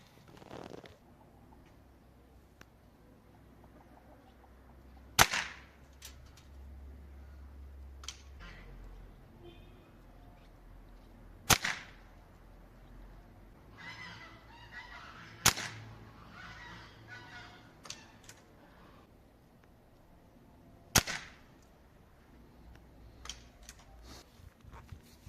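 A Kral Arms N01 SL Luks .177 air rifle fires Spoton pellets, giving five sharp isolated cracks spaced a few seconds apart, with handling rustles and quiet pauses between shots.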